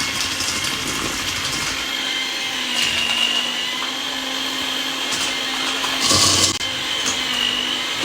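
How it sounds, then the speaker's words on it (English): Electric beater whisking butter and two sugars in a bowl, a continuous close motor whine with slight pitch shifts and a louder scraping burst near the end, no talking. "use your electric beater to mix"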